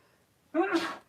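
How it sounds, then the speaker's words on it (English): A single short sneeze, sharp and close, rising suddenly out of near silence and trailing off within half a second. "I'm going to sneeze."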